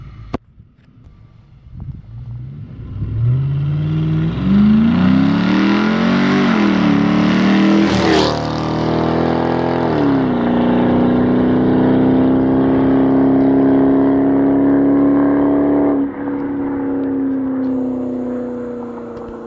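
A Dodge Magnum with a 3.5L V6 and Flowmaster Super 10 exhaust revs up loudly and close, climbing in pitch, then settles into a sustained high steady hold before easing off, alone without talk.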